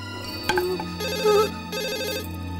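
An electronic phone ringtone plays as repeated melodic bursts at moderate volume, with a brief knock near the start and no talking.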